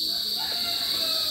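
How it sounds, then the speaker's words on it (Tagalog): A cricket trills in a steady high-pitched buzz close to the microphone, continuous through the moment, with quiet rustling background beneath it. "Oh, yan oh, yung kuliglig."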